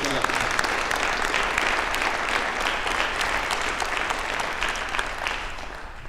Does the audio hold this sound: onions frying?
no